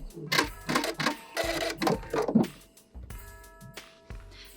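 A sewing machine back stitches across the end of a fabric gift bag, running in a few short bursts with mechanical whirring and pauses in between.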